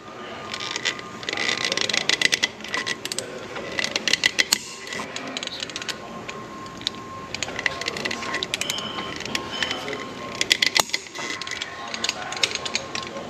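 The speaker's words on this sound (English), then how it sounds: "torque wrench set at 50. Let's go ahead and click them off" A torque wrench clicks repeatedly as six drive shaft bolts on a 2023 AWD Mercedes-Benz are tightened to 50 foot-pounds, sharp ratcheting bursts coming in irregular clusters, close and moderately loud.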